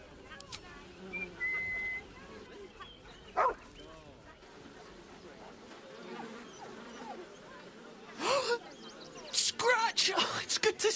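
Dog in the fantasy role-playing game Baldur's Gate 3 giving sharp barks and yips with whimpers, mostly in bursts near the end, alongside game character voices talking and a brief whistle.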